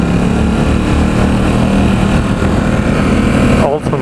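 A 2017 Ducati Supersport S runs on a test ride in San Francisco, its engine a steady, loud drone with a buzzing mid tone and wind rush that keeps going throughout and briefly drops near the end.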